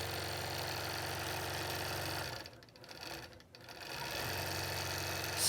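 A Statler computerized quilting machine stitches a piano key border with a steady, loud mechanical whir, then slows and dips briefly before resuming its continuous hum, alone without talk.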